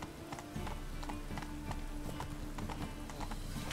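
Roach, Geralt's horse in The Witcher 3, galloping with a rapid, rhythmic clip-clop of hooves that stays close and steady throughout, over low ambient game sound.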